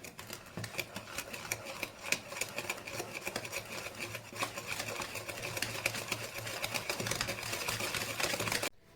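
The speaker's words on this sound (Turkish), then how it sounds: "Hemen şöyle tekrar çırpıyorum." Cornmeal cookie batter with yogurt and cinnamon is whisked briskly in a bowl, a fast continuous clatter of rapid strokes, close and fairly loud, stopping abruptly at the end.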